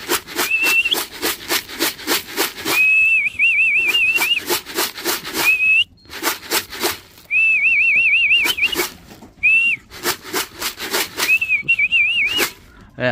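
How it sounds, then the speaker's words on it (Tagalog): A person whistles to call pigeons in short, rising and warbling phrases, repeated several times, over a steady rapid clicking or tapping in the background. "pasensya na po sa sipol ulit mga kalapatids"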